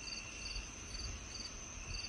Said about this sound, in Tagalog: Dinig na dinig din niya mga kuliglig sa sobrang tahimik ng paligid.